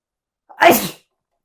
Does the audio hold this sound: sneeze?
yes